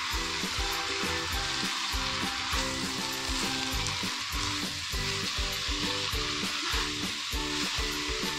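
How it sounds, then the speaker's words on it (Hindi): Potato and cabbage sabzi fries in a pan while being mixed, giving a steady, dense sizzle with scraping stir sounds recurring through it, close and continuous. "अब इनको करूंगी मिक्स अच्छे से।"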